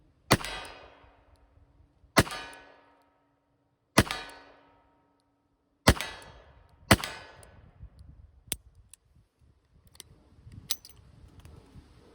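A Taylor's .357 revolver firing old factory wadcutter rounds: five sharp, fairly soft reports spaced a second or two apart, each with a short ringing tail, followed by lighter metallic clicks and handling.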